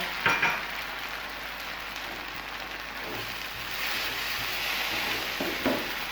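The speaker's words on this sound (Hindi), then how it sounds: "चम्मच साथ साथ चलाते रहेंगे" A spoon stirring creamy butter garlic chicken sauce as it cooks and thickens, continuous bubbling sizzle with scraping strokes near the start and end, close and fairly loud.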